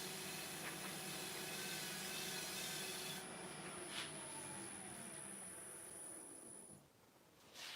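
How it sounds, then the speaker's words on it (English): Steady close rubbing and rasping of wood shavings against a turned wooden bowl, denibbing it, continuous throughout with a faint high whine in the background. "So just denib it with them shavings."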